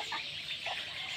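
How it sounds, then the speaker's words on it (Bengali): A brood of about 350 Khaki Campbell ducklings on a duck farm calls with scattered, overlapping peeps and chirps, held close against a constant background murmur, with no talking. "দেখেন এখানে হচ্ছে হাঁসের এতগুলো বাচ্চা"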